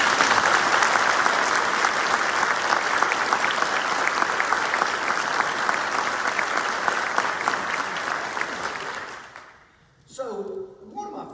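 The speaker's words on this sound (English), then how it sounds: "If you will join me in a heartfelt round of applause" Sustained, full applause from an awards ceremony crowd, dense and steady for about nine seconds before fading out, followed by a brief spoken voice.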